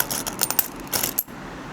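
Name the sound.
old copper coins being handled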